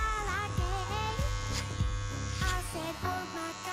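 An electric hair clipper buzzes continuously and close by during a home haircut, its hum wavering in pitch as it moves through the hair.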